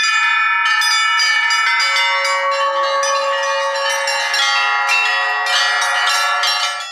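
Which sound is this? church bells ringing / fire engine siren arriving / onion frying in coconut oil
church bells ringing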